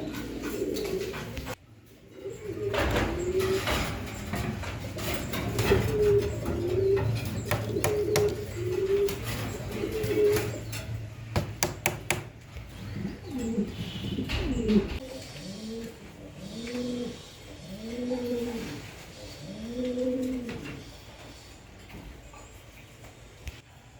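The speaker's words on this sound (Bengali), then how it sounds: "রয়্যাল টামলার সম্পূর্ণ রানিং কবুতর" English Long Face and Royal Tumbler pigeons coo in a loft, with repeated rolling coos close by, first under a busy background and then in a clearer series of distinct calls.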